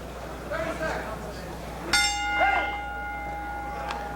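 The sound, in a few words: boxing ring bell ending the round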